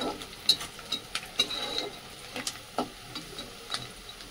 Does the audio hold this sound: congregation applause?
no